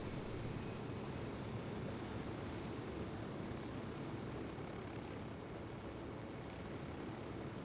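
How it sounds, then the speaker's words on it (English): Helicopter flying in the video game Ghost Recon Wildlands, a steady, muffled rotor and engine roar heard from inside the cabin, constant and fairly quiet with no voices. "Shouldn't take us too long, especially considering we're in a heli now."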